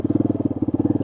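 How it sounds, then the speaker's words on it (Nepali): A motorbike engine runs close by in a Nepali village with an even, fast, throbbing idle pulse, alone and without talk. "चढ न यो बाइकमा"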